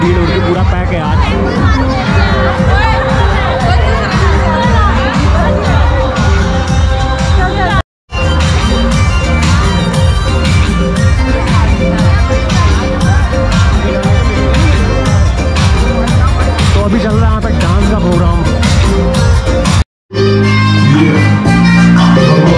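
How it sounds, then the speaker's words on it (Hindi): A packed crowd fills an Adivasi Ramleela committee fairground at Chakki Mod on Dussehra, a loud, constant hubbub of many voices and bustle. Nearby talk rises over it, and the roar cuts out briefly twice. "बहुत ज़्यादा भीड़ हो रही है, पूरा पैक है आज।"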